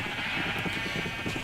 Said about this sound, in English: I'm just standing here watching some sheep